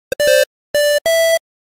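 Square-wave synth tones from the FL Studio 3xOSC plugin sound as three short, loud, buzzy electronic beeps at a fixed pitch, with a tiny click before the first, separated by brief silences.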